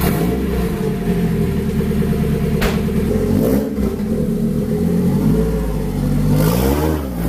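A Honda Prelude's engine runs loud and close, a rough steady idle with a few quick revs rising and falling, without any voices.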